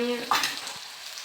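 Onion, ginger and garlic paste fry in a pan with a close, continuous sizzle, punctuated by a couple of sharp bursts as stirring or fresh additions hit the hot oil.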